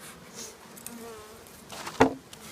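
Honey bees hum faintly around a hive, a thin buzzing that drifts in and out, with a sharp close knock near the end.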